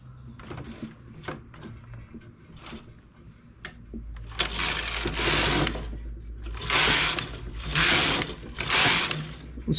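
A knitting machine carriage sweeps back and forth knitting rows, giving repeated loud mechanical whooshing passes with ratcheting clicks. Lighter clicks and handling noises come before the passes, all close and with no talk.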